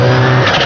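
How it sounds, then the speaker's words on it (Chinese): A racing speedboat engine on wide open water in Thailand, a brief loud roar that is close and sustained with a deep steady drone. "这发动机的轰鸣真吓人。"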